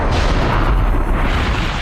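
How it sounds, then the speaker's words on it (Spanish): A bomb explosion effect for a building blast: a dense, loud, sustained roaring rumble with heavy low-end boom filling the whole stretch without pause. "La explosión atravesó el edificio en un abrir y cerrar de ojos."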